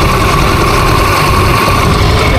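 Rebuilt motorcycle engine idling: a loud, steady, close mechanical drone with an even low rumble and no breaks.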